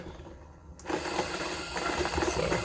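A Monolith Titan Flat coffee grinder is switched into turbo mode at high RPM; after a quiet moment a sudden onset brings a steady whirring, rattly grind with faint crunching, close and continuous.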